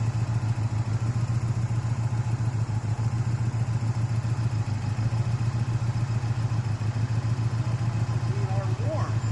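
A 2004 Subaru Impreza engine idles steadily during a head gasket test, a constant low rumble with light mechanical clatter holding level throughout, close by, with no one talking.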